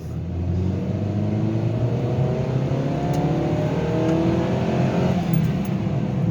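A 2013 Mazda 6 engine pulls in second gear, a steady loud droning hum rising gradually in pitch as the car accelerates, heard from inside the cabin with no talking over it.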